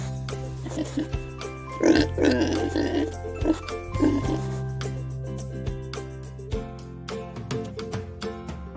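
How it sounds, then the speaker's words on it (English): Pigs on a working farm grunt in short, close bursts over a low steady background hum, with a few sharper snorts clustered near the start and scattered rhythmic noises later. "Pigs."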